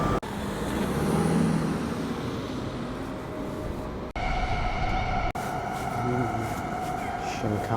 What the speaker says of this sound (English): Shinkansen.